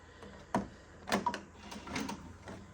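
An Epson F570 printer running its powerful head cleaning cycle gives off a few sharp mechanical clicks and clunks, then softer whirring and rattling, heard up close with no talk.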